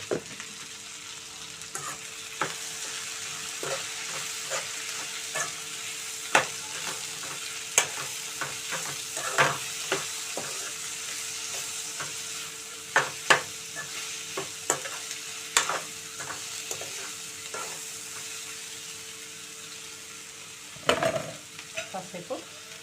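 Sliced ivy gourd fries in a pan with turmeric and salt, a constant soft sizzle under repeated clicks and scrapes as it is stirred throughout.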